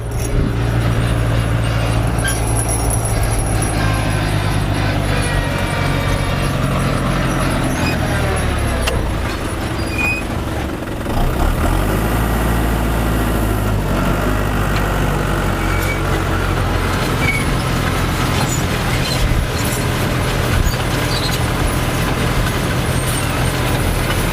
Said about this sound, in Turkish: bakalım traktör nasıl çıkacak